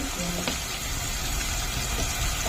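Onions frying in a pan, giving a continuous dense sizzling hiss at close range with a faint tick near the start and no talking.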